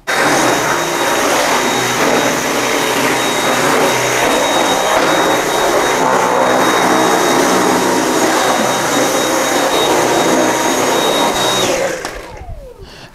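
A vacuum cleaner roars loudly and steadily at close range, then cuts off and winds down at the end.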